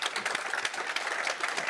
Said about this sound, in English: and this is your applause.